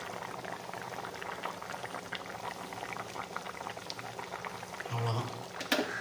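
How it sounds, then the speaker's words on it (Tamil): Tomato rasam bubbles at a steady rolling boil in a pot, a close, continuous burbling with a brief louder gurgle and clatter near the end. "ஓகே, ரசம் கொதிச்சிடுச்சு."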